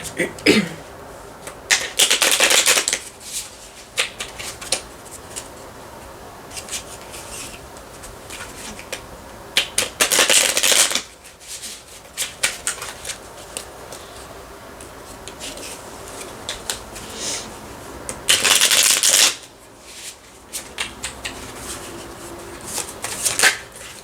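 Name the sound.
shuffling oracle cards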